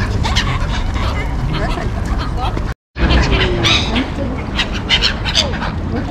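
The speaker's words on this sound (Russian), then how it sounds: "Как кормят чаек, туток и еще каких-то белоклювых птичек." Gulls, coots and other white-billed birds squawk and honk in a busy, continuous flock as they are fed by the sea in Sochi, with people talking throughout and a brief dropout near the middle.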